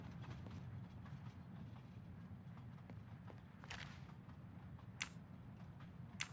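Steady rumbling clatter of a moving passenger train interior in the Murder on the Orient Express video game, a continuous low rhythmic rattle with occasional brief metallic clicks and taps over it.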